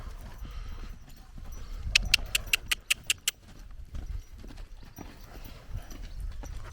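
A horse runs loose outdoors on a cold, windy day after rain, its hooves striking about eight sharp, quick beats in a tight burst, set against steady wind rumble and rustling.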